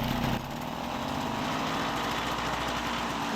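An MBK 40V AV7 moped with an Airsal 70 kit and SHA 15 carburettor revs loudly up close, its small two-stroke engine buzzing steadily at high speed throughout.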